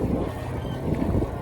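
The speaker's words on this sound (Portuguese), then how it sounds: "35 minutos de vento contra" Strong headwind buffeting a microphone on a bicycle ride, a steady low rumbling roar that fills the whole stretch with uneven gusty swells and no voices.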